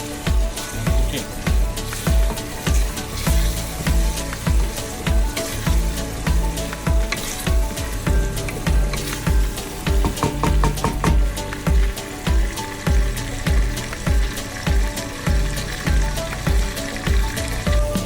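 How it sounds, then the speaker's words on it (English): Onions, shallots, tomatoes and curry leaves with mustard fry in olive oil, giving a loud, steady sizzle with stirring clatter running throughout. "Added olive oil, mustard, onion, curry leaf, and 2 tomatoes, and 4 shallots, shallot onion, and cooking."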